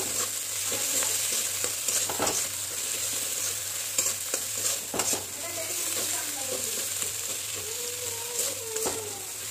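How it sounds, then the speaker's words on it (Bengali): Steady sizzling from a frying pan with repeated scraping and clinking as spices with salt and turmeric are stirred, fairly loud and close throughout. "নুন হলুদ দিয়ে আর একটু ভালো করে নেড়ে চিড়ে নিতে হবে।"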